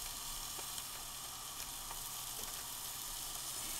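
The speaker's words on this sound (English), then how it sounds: "So we're just searing that off" Pork loin sears in a cast iron skillet with a steady, close, continuous sizzle and crackle. It runs evenly throughout, with a few small pops and no voices.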